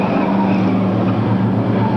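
A Ford Thunderbird stock car races close behind another on a track, a loud sustained engine roar with a faint tire squeal throughout and no voices.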